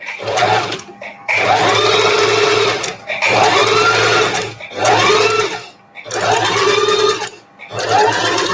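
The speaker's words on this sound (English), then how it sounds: "I align my presser foot to the edge of the fabric and I'm sewing one presser foot distance." A sewing machine stitches strips of fabric in several loud, close bursts of whirring motor running a few seconds each, separated by short pauses, with faint talk in places.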